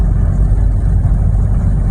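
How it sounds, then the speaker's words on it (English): A car drives on an icy, snow-covered road in south Alabama, its engine a steady loud rumble with road noise and no talking. "We're driving on ice."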